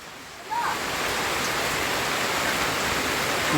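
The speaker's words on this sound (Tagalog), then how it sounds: "Lakas ng ulan guys, oh." Heavy rain suddenly intensifying into a dense, loud, continuous roar of drops pounding on surfaces close by, steady after a short quieter start.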